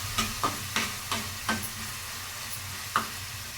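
Dried red chillies are stirred in hot oil with cumin in a pan, making a soft continuous sizzle punctuated by several sharp scraping clinks of a spoon against the pan at irregular intervals.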